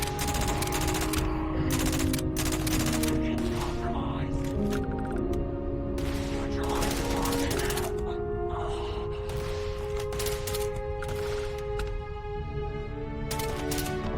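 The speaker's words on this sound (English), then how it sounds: "I hope I was shooting an ecliptic agent" Gunfire in the space game Starfield, on the planet Carinae IV-a: rapid bursts of shots crackle nearly nonstop over a steady musical score, pausing briefly, with a voice talking now and then.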